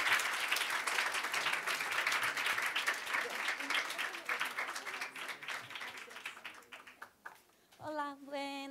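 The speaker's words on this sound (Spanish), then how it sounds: "vamos a despedir a Liliana con un aplauso" An audience at a lecture on Chinese philosophy and language gives a sustained round of applause that thins out and fades, followed by a brief voice speaking near the end.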